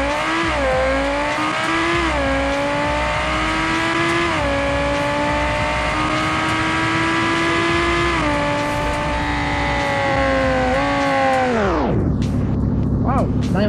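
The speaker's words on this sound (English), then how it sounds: "A V10 engine, naturally aspirated" A naturally aspirated V10 car engine in the BeamNG.drive racing game revs hard through several gear changes, its pitch climbing and dipping in steps during a drag run, then cutting sharply near the end.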